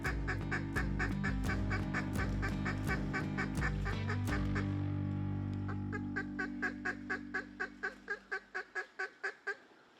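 Mallard ducks quack loudly in Arkansas flooded timber, a run of harsh, repeated quacks that ends in a descending series of shorter calls fading out.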